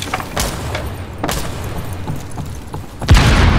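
A frag grenade blast in Rainbow Six Siege lands as a deep, heavy boom near the end, preceded by a few sharp impacts and thuds amid background game noise.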